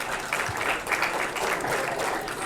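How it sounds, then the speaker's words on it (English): Steady applause from a mining-industry conference audience fills the whole stretch, a dense even wash of many hands clapping at moderate volume with no clear talking over it. "let's give everyone a round of applause"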